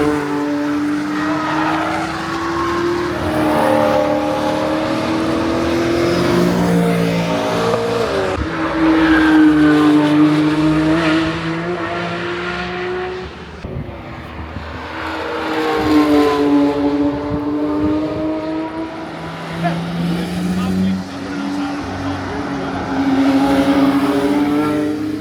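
A Porsche GT3 and a Porsche 968 lap the Nürburgring, their engines rising and falling in long revving sweeps as they pass, loud and sustained with gear changes throughout.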